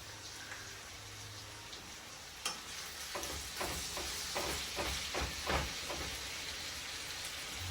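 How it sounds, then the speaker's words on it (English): Taco meat sizzles and hisses steadily in a pan while a utensil stirs it, with a run of scraping strokes in the second half, close and fairly quiet. "You want to give it a nice stir so it cooks evenly."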